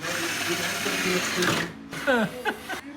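A drill whirs steadily for about a second and a half, then cuts out as voices start talking nearby.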